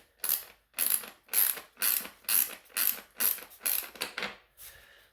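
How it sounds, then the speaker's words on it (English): A half-inch ratchet wrench tightens the T-bolts on a Caroma Caravelle one-piece toilet, about ten loud, evenly spaced ratcheting strokes close up, then the clicking tapers off near the end with no talk. "with the 1/2 inch wrench for this particular set of T-bolts"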